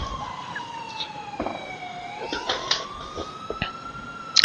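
A police siren in the video game GTA IV wails in a slow rising and falling sweep, fairly close and steady, with scattered clicks and bumps of game sound on top.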